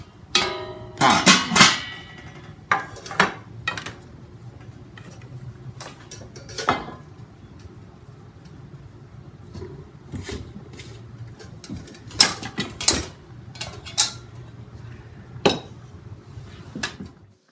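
An Imusa 6-quart enamelware pot and an 8-inch cake pan from a nesting camping cookware set being handled, sharp metallic clanks and clinks in scattered bursts, loud and close, with quiet pauses between.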